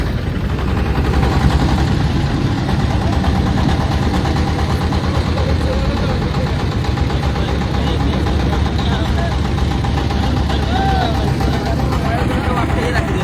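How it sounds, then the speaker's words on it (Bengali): Trawler boat engine running, a steady loud mechanical drone close by that persists throughout under a person talking. "আসলে ট্রলারের আওয়াজে আমার লাইভে কথোপকথন হয়তো খুব ভালোভাবে বোঝা যাবে না"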